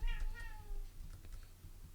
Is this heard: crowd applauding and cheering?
no